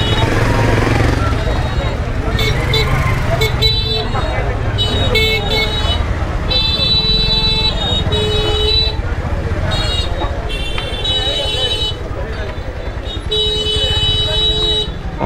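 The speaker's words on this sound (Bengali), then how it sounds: "কন্টিনিউ হর্ন দিচ্ছে" Repeated car horn blasts, some long and some short, sound through a dense night-time traffic jam, over a steady rumble of engines and road noise with voices mixed in.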